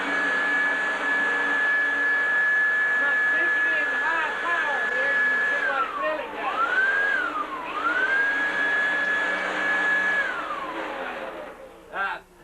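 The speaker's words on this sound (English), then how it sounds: "I'm going to demonstrate this little power blower here and how you can clear out some of that" A small power blower clears sawdust in a woodshop, a loud steady whine with a sustained high tone that dips and rises as it is worked, then winds down near the end.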